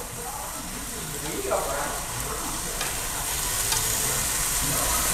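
Duck stir-fried in a pan, with a continuous loud sizzle and occasional scraping strokes throughout.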